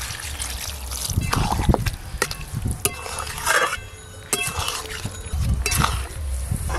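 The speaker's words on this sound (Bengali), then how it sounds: "পটল চিংড়িটা একদম মাখো মাখো হয়, তাই কম করে একটু জল দিলাম।" Water is poured into a pan of pointed gourd and prawn curry, trickling and splashing in uneven bursts with clinks of utensils against the pan, close by.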